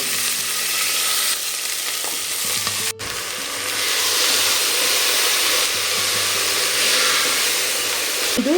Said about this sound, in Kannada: ಈಗ ಎಣ್ಣೆ ಕಾದಿದೆ ಮೊಳಕೆ ಹುರುಳಿಕಾಯಿನ ಸೇರಿಸಿ